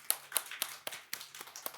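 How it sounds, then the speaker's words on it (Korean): Rhythmic clapping from a church congregation during a Sunday worship service, a series of crisp, evenly spaced claps at moderate volume, fairly close and without voices over them. "뜨거운 박수 한번 보내드리겠습니다."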